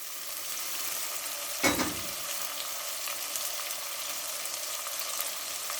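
Spices, with chopped tomatoes, fry in a pan for a potato and spinach curry, giving a steady close sizzle with one brief louder burst of crackling near the start.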